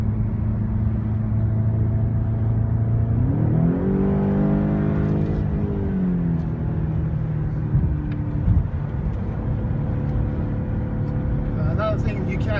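2015 BMW X6M engine on a test drive: a steady low rumble from inside the cabin, rising in pitch as the car accelerates for a couple of seconds and then settling back, with someone talking over it.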